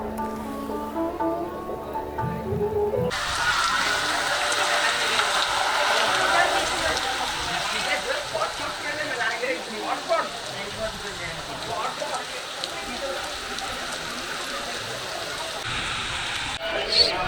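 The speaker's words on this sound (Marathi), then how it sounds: "तुम्ही बघू शकता पाऊस यायला लागला आहे" Rain falls in a steady hiss in Kerala after a brief start of quieter sound, with some faint talk mixed in beneath the drizzle.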